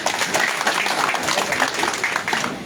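Dense, continuous applause fills a party congress hall of Guinea's UFDG political party, many hands clapping at once in a steady, moderately loud wash with no pause.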